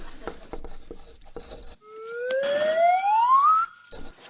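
A game show buzzer on a TV panel quiz: a bright electronic tone that sweeps steadily upward for nearly two seconds, loud and close, with faint chatter before it.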